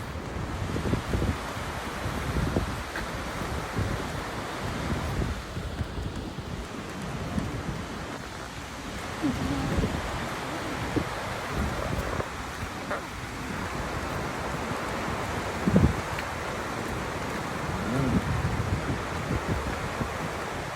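Godafoss waterfall in Akureyri, Iceland, roars as a steady broadband rush mixed with wind buffeting the microphone, continuous and fairly loud throughout, with no voices.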